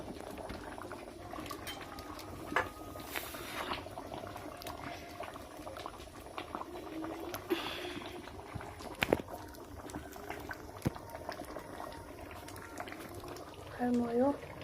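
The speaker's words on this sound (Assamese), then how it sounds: "দালি চাপ পূৰা উতলি আছে" Dal of lentils boils steadily in a pot over a fire, a continuous low bubbling and popping with a few sharper spits, steady and fairly close, with occasional faint background sounds.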